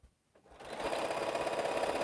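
A home sewing machine stitches together quilt pieces, starting up after a brief pause and then running in a steady, fast, even whir close by.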